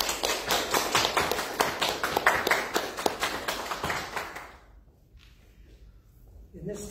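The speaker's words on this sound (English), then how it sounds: "Please join us in a round of applause for our first-time guests and all our returning friends who are" A small group claps for guests at an online church service, a steady patter of separate hand claps lasting several seconds before trailing off into near silence, with a brief voice at the end.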